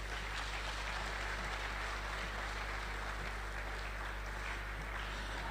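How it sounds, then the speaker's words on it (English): Sustained applause from a hall audience welcoming the chairman of a youth event with an MP in Ghana, a steady even wash of clapping throughout with a low hum beneath. "Another round of applause for our chairman."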